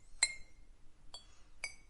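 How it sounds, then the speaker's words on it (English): A teaspoon taps on a glass in the video game Z.A.T.O., making three quiet, bright clinks spaced unevenly over a couple of seconds, the first ringing slightly longer, in near silence. "It's a teaspoon tapping on the glass again and again."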